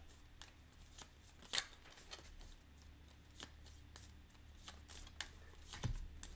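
Cards are shuffled during an Undaunted: Stalingrad board game session: quiet riffling and soft snapping taps come in scattered bursts, close and faint, against a low room hum.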